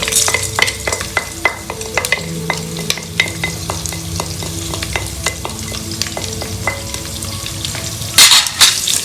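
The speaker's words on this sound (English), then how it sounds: "Now I'm going to do the second tempering, which is the garlic, the shallots and the black pepper." Garlic, shallots and black pepper sizzling in hot tempering oil for mango rasam, a constant frying hiss punctuated by sharp crackles and pops and the scrape of a spoon stirring, with a louder burst of spitting near the end.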